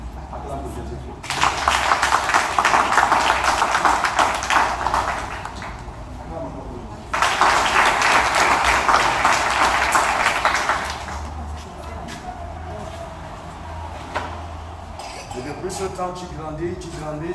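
A church congregation at a healing service bursts into two long rounds of loud, dense applause, the first lasting about five seconds and the second about four, separated and followed by quieter crowd murmur.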